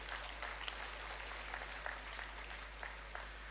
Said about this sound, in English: I think a big applaud is due for them.